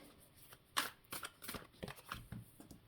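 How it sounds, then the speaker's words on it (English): Oversized tarot cards being shuffled by hand, a run of crisp riffling and slapping bursts close by, irregular and moderately loud, with no talking. "these cards are way too big for me to do the shuffle."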